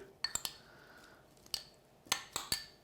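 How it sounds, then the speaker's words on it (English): A utensil clinks sharply against a bowl as Aberdeen Angus beef is mixed with Scottish rapeseed oil at a Royal Highland Show cooking demonstration, giving a few scattered, faint metallic taps with quiet gaps between them. "add some of the Scottish rapeseed oil and give it a good mix through"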